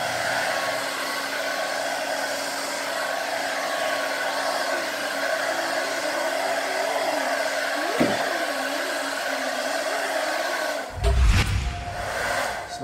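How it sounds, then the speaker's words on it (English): A handheld blow dryer drying a freshly painted canvas gives a steady, close, loud whoosh throughout, with a brief clunk near the end as the airflow shifts. "when I'm not painting in the sun, I like to use a blow dryer."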